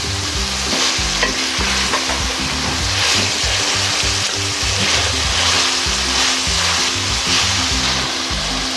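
Sliced carrots added to vegetables frying for chicken vegetable fried rice: a loud, steady sizzle with continuous stirring and scraping in the pan, no voices.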